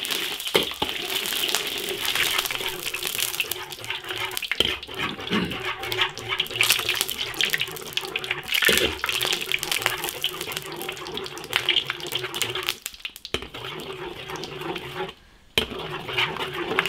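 Water poured into a large iron wok over bubbling oil and melted rock sugar, a steady splashing rush with clattering kitchen noise, beginning a long braise of beef ribs.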